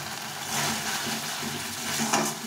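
A ground red chilli spice paste, thinned with the water used to rinse the spices, sizzles and fries steadily in a pan for a shish fish curry, a soft continuous hiss heard alone.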